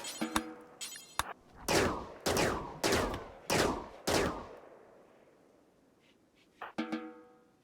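RimWorld gunfire as friendly fire hits a colonist: a sharp burst of several rapid game gunshots, then five evenly spaced loud cracks with short decays, a quiet tail, and two more shots at the end.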